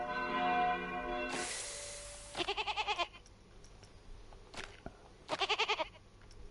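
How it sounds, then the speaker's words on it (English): Church bell sound effect in the video game Planet Coaster 2, heard as two short bursts of rapid ringing strokes, each lasting under a second, after a sustained tonal sound and a swish. "which is the church bell ringing"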